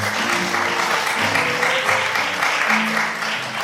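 An audience at a Chungbuk youth FameLab science-talk competition final claps steadily as a contestant walks on stage, forming a dense, sustained wash of applause with faint voices murmuring underneath.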